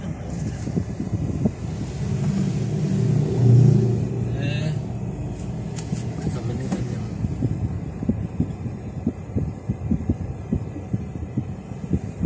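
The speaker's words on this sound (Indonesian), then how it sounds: "Macet banget, guys." Heavy traffic jam on the road to Batu, a continuous low engine rumble and wind-buffeted roar from slow-moving vehicles close by, with no clear individual horns.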